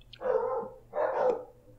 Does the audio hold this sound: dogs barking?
yes